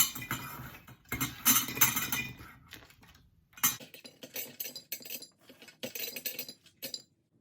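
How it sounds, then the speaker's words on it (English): Freeze-dried meatballs tumble into a half-gallon glass mason jar, a loud clattering rush of hard pieces clinking against glass, then scattered lighter clinks and rattles as the last few drop in. "I'm just going to dump the meatballs into the mason jar and then into the Mylar bag"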